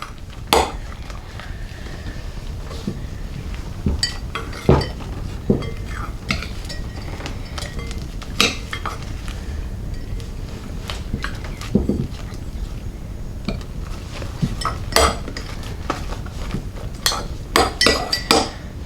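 A spoon clinks and scrapes irregularly against a bowl while fluffy slime is stirred, with sharp taps scattered over a soft low background and no speech.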